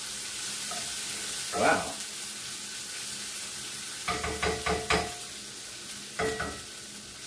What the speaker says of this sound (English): Let's give it another stir here. Lightly sauteed.